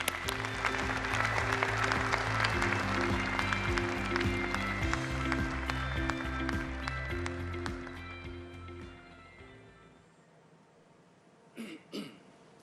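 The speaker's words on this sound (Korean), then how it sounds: "큰 박수로 환영해 주시기 바랍니다" Audience applause at the KF-21 Boramae fighter jet rollout ceremony at the KAI Sacheon plant, steady crowd clapping over sustained tonal music, fading out near the end with a few sharp sounds after.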